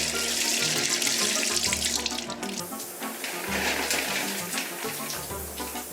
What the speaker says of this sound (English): turn the water on only when you need it